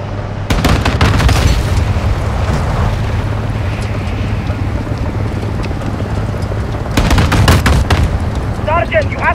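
Gunfire and explosions from an APC in the video game Modern Warfare 2, with loud bursts of rapid shots near the start and again near the end over a continuous rumbling battle background.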